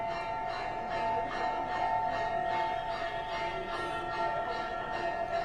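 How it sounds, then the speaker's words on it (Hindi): Temple bells ring continuously at the Shri Mahakal Lok temple complex, a dense rhythmic clanging over a sustained conch-like tone and a busy wash of surrounding noise, with no voices clearly heard. "आपके पीछे हम वो घंटियों की आवाज सुन रहे हैं,"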